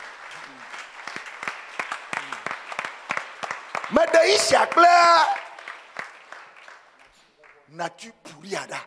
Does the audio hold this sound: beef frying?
no